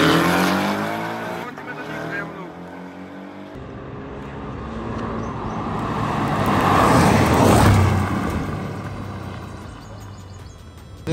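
Two cars launch in a drag race, engines roaring and rising in pitch as they accelerate away, growing louder as they pass close by with tire noise, while people talk over the din.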